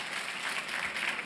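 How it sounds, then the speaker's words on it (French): Audience applause fills a French-language university ceremony installing a CROUS director, a steady wash of clapping hands from many people throughout, with no talk over it. "Des applaudissements aussi pour lui."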